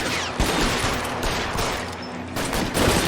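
A dense, loud barrage of rapid gunfire from the crime video game L.A. Noire fills the whole stretch without pause.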